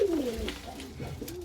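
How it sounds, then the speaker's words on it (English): A pigeon in an aviary gives a soft, close coo with a falling, throaty tone, followed by faint murmuring coos and light rustling. "He's a pretty pigeon."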